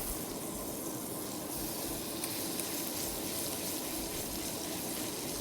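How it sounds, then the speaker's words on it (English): Beef steaks searing on high heat in a hot pan with melting butter, a steady loud sizzle with watery hissing and bubbling that holds evenly throughout, with no talking. "we're gonna take our steaks and we're gonna start to sear them"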